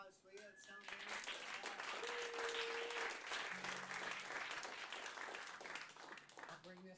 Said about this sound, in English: Give Doug a round of applause